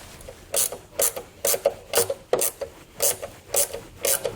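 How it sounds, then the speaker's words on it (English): A 10mm ratcheting wrench tightens nuts on a running board mounting bracket, a close, loud series of clicking ratchet bursts in an even rhythm, roughly eight strokes, with no voices. "we can come back with our 10mm wrench and tighten it down"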